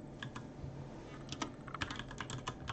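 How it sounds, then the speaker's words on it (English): Quick bursts of computer keyboard keystrokes, typed while searching for privacy settings through the Windows start menu, come in irregular clusters at close range over a low background hum, with no voices. "Just start typing, it'll come up, or do it in the search bar."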